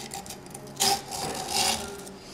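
An X-Acto knife trims scooter grip tape along the deck edge, giving two short, close rasping scrapes over a quiet background.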